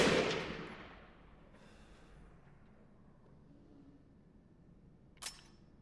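A single sniper rifle shot fired in Resident Evil Village VR: a loud, close crack that rolls off into a long fading tail, with a sharp, faint click a few seconds later.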